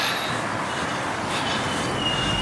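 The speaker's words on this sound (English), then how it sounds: "there is a train in" A train standing at a railway platform gives a steady, loud wash of rumbling, hissing noise for the whole stretch. A faint high whine runs near the end, and nobody speaks.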